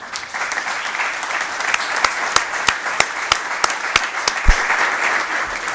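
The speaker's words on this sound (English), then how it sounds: "I think that we could at least give him a nice round of applause" People at a Winnebago County Board meeting give a round of applause: a roomful of hands clapping steadily and fairly loud, sharp individual claps standing out through the whole stretch.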